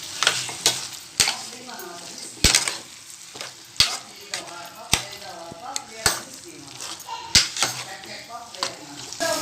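Black masala stirred and rinsed with hot water in a hot pan for kala mutton, with repeated sharp scrapes and clacks of a spoon against the metal over a steady sizzle, close and rhythmic.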